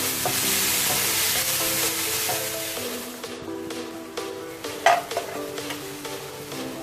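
Onions frying in a pan for a mutton curry masala, a steady broadband sizzle with scraping stir strokes, loud at first and then settling lower, with a sharper clatter near the end and no voices.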